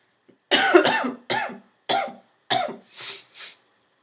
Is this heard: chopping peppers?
no